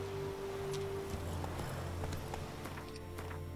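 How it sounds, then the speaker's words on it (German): Rhythmic hoofbeats clip-clop along at a steady trot in The Witcher 3: Wild Hunt, moderately close, over a low continuous hum. "Böses Pferd."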